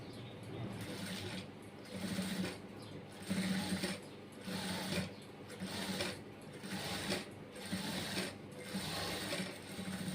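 A sewing machine fitted with a piping foot stitches a blouse, running in steady bursts of rapid mechanical whirring separated by short pauses, close and alone with no talk.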